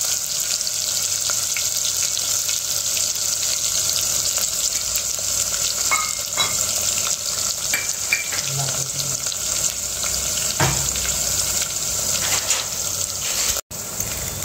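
Garlic cloves and sliced onion fry in hot oil in a home kitchen pan: a steady soft sizzle with scattered clinks and stirring knocks, a brief gap near the end, and no talking.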